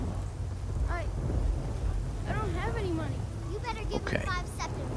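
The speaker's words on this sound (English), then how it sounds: "I didn't notice it started raining again." Steady rain with low thunder rumbling through a Skyrim game scene, a constant wash of noise that holds for the whole stretch while voices and chirpy tonal sounds rise over it.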